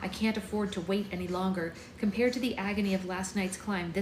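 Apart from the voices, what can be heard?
No everyday noise stands out behind the speech.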